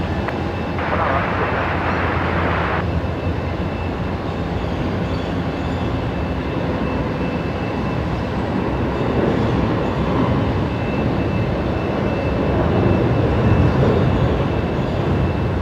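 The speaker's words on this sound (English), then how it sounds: "Connor 61 is just departing behind me as well on the new parallel runway" Aircraft departing on the new parallel runway at Brisbane Airport, a broad steady roar of jet engines heard at a distance, continuous and fairly loud throughout.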